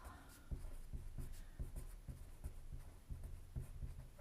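A pen scratches across paper while a math problem on factoring a difference of squares is worked out, giving steady rhythmic strokes, close and fairly quiet, with no talking.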